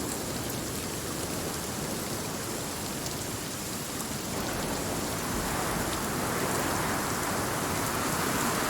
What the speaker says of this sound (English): Could sleep to this rain track.